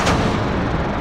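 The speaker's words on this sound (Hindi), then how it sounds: "ये पटाखे बहुत अच्छे हैं," Firecrackers go off indoors in a room, a sharp loud crack followed by a dense rumbling, crackling boom that fills the short moment.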